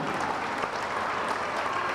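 Audience applause at a Central American Games weightlifting competition, a loud, dense, continuous wash of clapping filling the whole stretch without pauses.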